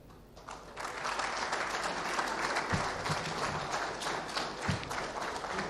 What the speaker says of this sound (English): I believe we can make the applause a bit louder for the Honorable Minister of Defense.